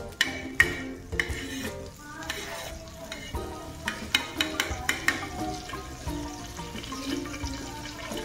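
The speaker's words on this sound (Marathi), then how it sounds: "इथे आपण बटर मेल्ट करून घेऊया थोडंसं" Butter melting in a pan for masala pav, a soft sizzle under a run of clinks and scrapes from a utensil against the pan, with busier tapping in the middle.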